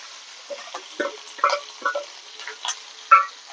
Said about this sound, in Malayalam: പച്ചമുളകും കരിവേപ്പില ഇട്ട് കൊടുക്കാം